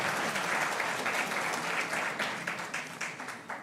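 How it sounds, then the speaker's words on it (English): Audience at a university water imbizo applauding a city of Tshwane official, a dense burst of clapping that starts full and loud, then thins and fades into scattered claps toward the end. "Let's give him a round of applause"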